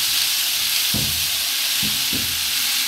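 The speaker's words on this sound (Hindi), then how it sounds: "आलू को हमने अच्छे से फ्राई कर लेना है बिल्कुल सॉफ्ट होके।" Potatoes for hash browns fry in a hot pan with a loud, continuous sizzling hiss, interrupted by three brief scraping thuds of stirring near the end.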